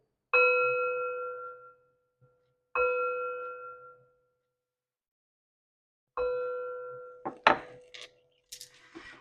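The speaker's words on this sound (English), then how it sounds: "3 chimes to bring in Spirit." Three ringing metal chimes struck one after another, each bright tone sustaining and fading alone in a quiet room, followed by a few soft clinks and handling sounds.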